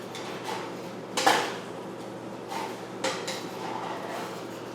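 A spoon clinks and scrapes in a pan while ground beef for a taco bake is stirred, with a few distinct knocks over a quiet steady background and no talking.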